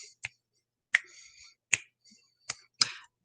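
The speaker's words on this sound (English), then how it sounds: "please clap and say the pattern" Hands clap out a beat pattern during a music lesson: six sharp, crisp claps in an uneven rhythm, close and fairly loud, with faint voice-like sounds between some of them.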